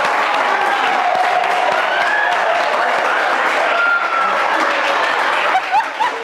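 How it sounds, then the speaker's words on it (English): A studio audience applauds on a Ghanaian game show, steady clapping with some chuckles and crowd murmur running throughout, fairly loud and continuous with a voice occasionally rising above it. "Round of applause."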